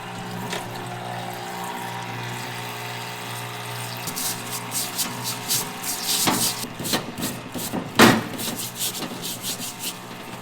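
A solvent tank parts washer runs with its liquid pump humming steadily, then sloshing, rubbing and splashing noises build as parts are scrubbed in the solvent, with one sharper clatter near the end.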